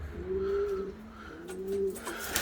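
Pigeons coo nearby in low, drawn-out, repeated calls, with faint background noise, at a feeder in a pigeon loft.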